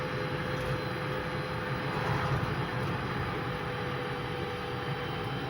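An ELWINN battery-powered electric ride-on car driving on asphalt at 30 km/h, a steady loud whine and rumble of motor, tyres and wind noise with no speech.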